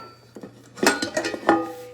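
Metal cake pans from a spring 2022 Pampered Chef scalloped-edge cake pan set clank and clink as they are handled, with several close, sharp knocks of metal on metal that ring briefly.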